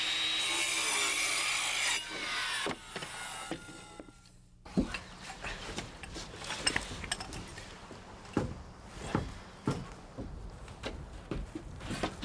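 A handsaw cuts through floor-frame lumber around pipes with a run of rhythmic rasping strokes, near and fairly quiet, after a brief louder hiss at the start.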